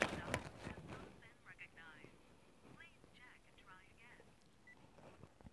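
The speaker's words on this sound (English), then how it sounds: "And I dial her number again," A phone number is dialed in the video game The Letter, giving a short series of soft tones and beeps under faint background noise.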